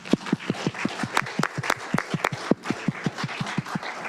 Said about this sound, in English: I want to give everyone a big round of applause